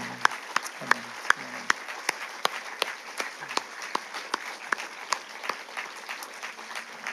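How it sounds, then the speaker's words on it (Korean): Congregation applause fills a church at the close of a final-day special dawn revival service, steady clapping with a few sharper near claps standing out, faint voices mixed in at the start. "우리 하나님께 영광의 박수 올려드리겠습니다"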